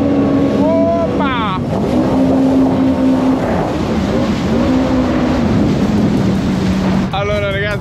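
A rented motorboat's poor engine drones steadily over rushing water and wind, with loud voices shouting and talking over it throughout.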